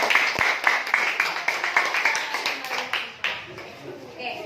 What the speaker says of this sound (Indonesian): Kita berikan dulu aplaus buat.